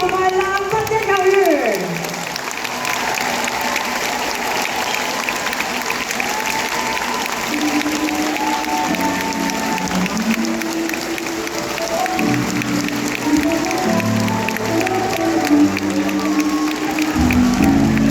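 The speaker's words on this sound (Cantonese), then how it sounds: "我哋現場觀眾朋友一齊再俾多啲掌聲" A school volleyball match audience applauds the players in a long, steady roar of clapping and some cheering, filling the hall with a dense continuous wash while a voice talks over it near the end.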